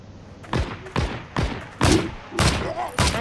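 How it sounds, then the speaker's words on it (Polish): Gunfire in the World War II shooter Heroes & Generals: six sharp, heavy shots land about half a second apart, each booming close and loud with a short ringing tail. "Słyszę strzały, a nie do końca wiem gdzie."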